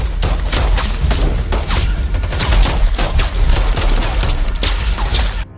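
Gunfire in a film scene, a pistol fight beside a jungle river: a dense, continuous barrage of loud overlapping shots and booms that stays intense for about five seconds before cutting off abruptly.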